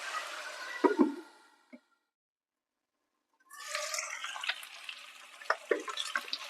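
Chicken pieces frying in hot oil for Andhra chilli chicken, a steady sizzling crackle with bubbling pops, then a pause of near silence before the sizzle returns louder and busier.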